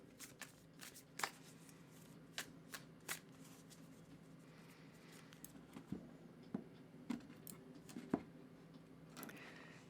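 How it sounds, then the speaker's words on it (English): A tarot card deck being shuffled repeatedly, with crisp riffling bursts and soft slaps at irregular intervals, fairly close and quiet, no talking. "So I'm going to give the deck a really good shuffle for you"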